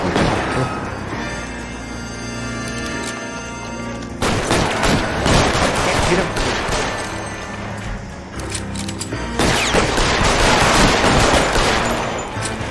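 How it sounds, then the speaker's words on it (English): Sustained rapid gunfire in the video game L.A. Noire, dense crackling volleys with booming hits, loud and close, broken by a brief lull and then a second heavy burst. "Rapid fire!"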